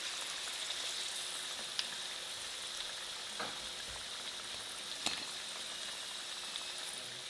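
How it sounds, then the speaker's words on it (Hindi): Vegetable ring samosas deep-fry in hot oil with a quiet, steady hiss and fine bubbling crackle. A couple of faint clicks from the utensils sound over it, and no one speaks. "इसी तरह सारे बाकी के समोसे भी मैं फ्राई कर लेती हूँ।"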